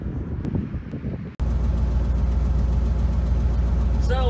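A 1950s Lincoln V8 cranks and catches with a sharp start, then settles into a loud, steady low rumble that fills the rest of the moment, with brief noise before the start and a rising whine at the end.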